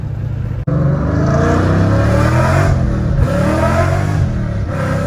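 A supercharged 660-horsepower first-generation S197 Ford Mustang with a 3.6L Kenne Bell supercharger roars hard under acceleration, its pitch climbing steadily through a sustained, loud, close pull with a brief break near the start.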